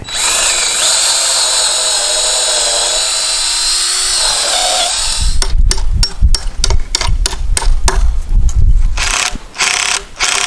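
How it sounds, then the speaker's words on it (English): A cordless power drill whines steadily, then bites in with rough, juddering bursts as it grinds a bolt hole for a backyard fence, stopping and starting near the end. "Drill the other hole, put the other bolt"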